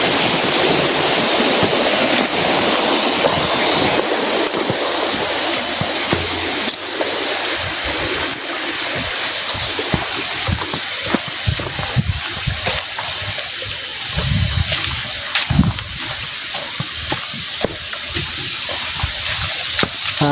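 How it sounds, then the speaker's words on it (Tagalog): Steady, continuous rush of water flowing along a stream, close and loud throughout with small splashes and gurgles, no talking. "Nandito ako sa kilid ng sapa"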